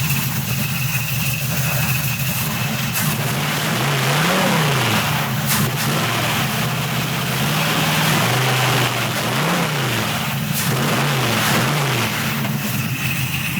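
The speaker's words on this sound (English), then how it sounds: "Let's rack the throttle on it, see what she sounds like." A big-block 396 V8 in a 1976 Chevy Camaro idles cold with a deep rumble, then revs up and down several times, loud and close throughout.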